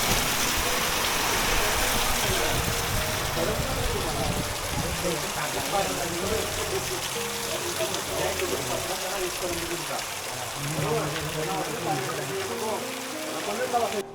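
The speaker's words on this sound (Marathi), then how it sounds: "पाऊस थांबायचा काय नाव घेत नाही" Steady, continuous rain falls around a rice-farming village, a dense hiss that carries throughout, while a person talks over it.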